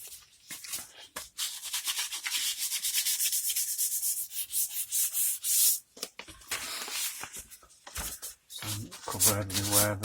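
Sandpaper rubbing over a Fender Squier SE guitar body being prepared for paint, a steady rapid scratchy rasp of close strokes with brief pauses, and a voice briefly talking near the end.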